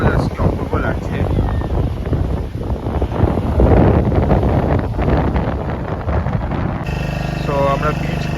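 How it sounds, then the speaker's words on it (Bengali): A boat rides across the sea near Puri, with loud, constant wind buffeting the microphone over a low engine rumble, and a voice talks toward the end. "আমরা বিচ ঘুরে বোট রাইডে করে আমাদের হোটেলের দিকে ফেরত যাচ্ছি"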